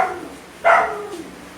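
A single short dog bark rings out clearly near the middle, preceded and followed by quiet room tone with no one talking.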